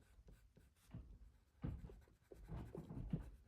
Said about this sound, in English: I'm just going to add my black color pencil.